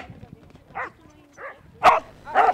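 At an agility competition with a course of tunnels, hurdles and seesaws, a dog gives a few short yips and barks, close and moderately loud, with background murmur between them.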